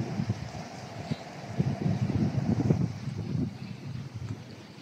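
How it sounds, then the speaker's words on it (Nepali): Wind blows behind a market outdoors, a steady gusty rumble buffeting the microphone with rising and falling surges, no voices. "अहिले मार्केट आएको अवस्था हावा चलिराखेको छ"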